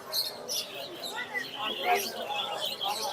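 Pet birds, including yellow Fischer's lovebirds, chirp and tweet in high bright bursts at the Mirpur 1 bird market, with busy crowd voices mixed in throughout.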